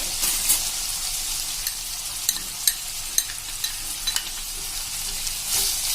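Gram flour being stirred while cooking in a pan for a dhaba-style sev tomato curry, with a steady soft sizzle and repeated scraping spoon clicks, no talk.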